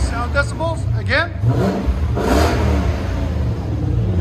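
A 1999 Lexus GS 400 with a 4.0L V8 and dual Borla Pro XS exhaust revs up close, engine rising and falling in pitch in a deep droning roar, with voices talking briefly over it.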